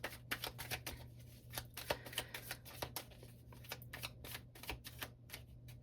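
Playing cards are shuffled continuously at close range, producing a steady stream of quick, crisp snaps and riffles that are soft overall.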